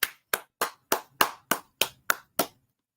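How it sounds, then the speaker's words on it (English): A small group's hand applause, nine sharp evenly spaced claps about a third of a second apart, close and crisp, with no talking over them. "Applause to Sam"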